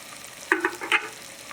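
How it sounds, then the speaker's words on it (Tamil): Tomatoes and onions sauté with salt in a pan for mutton biryani, giving a low sizzle broken by a few soft stirring scrapes close by. "நல்ல தக்காளி நல்லா வதங்கட்டும்"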